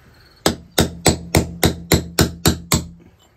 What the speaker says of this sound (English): So now I'll just hammer this thing out,